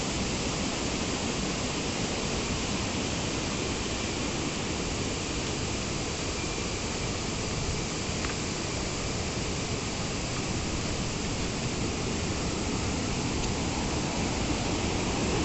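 Kuske Waterfall in Canacona, South Goa, India, pours in a steady, dense rush of falling water, an unbroken broadband roar heard close and alone.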